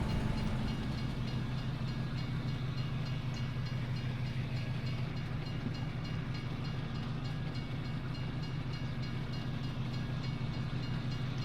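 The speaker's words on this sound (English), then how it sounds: "And we get the train, of course we do." A train passes at a good clip, a steady low rumble with rolling wheel noise filling the whole stretch, continuous and fairly loud.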